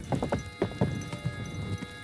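Hooves clip-clop in a quick, uneven rhythm of several knocks, moderately close, over a busy background hum with no talking, from the video game Kingdom Come: Deliverance II.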